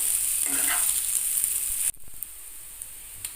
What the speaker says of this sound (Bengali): এবার একটু ভালো করে ভেজে নিতে হবে যেন ক্রিস্পি হয়